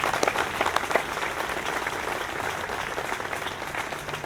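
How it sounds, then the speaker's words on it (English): An audience claps at a building grand opening and Peace Pole dedication ceremony, a steady wash of many hands with a few sharper claps at the start, holding level for several seconds before easing slightly. "If you're here, okay, now you may applaud."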